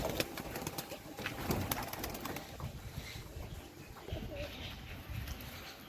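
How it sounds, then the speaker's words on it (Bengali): Desi golla pigeons coo softly in a loft, their low murmuring running steadily through a busy background of scattered clicks, rustles and light wing movement. "আর আসিফ হইতেছে ব্যস্ত আছে, ওর কবুতর আমি দেখতেছি ওখানে।"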